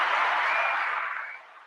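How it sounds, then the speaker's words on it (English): An audience applauding, a dense wash of clapping that holds steady and then fades away over a couple of seconds. "Let's give our brother a round of applause"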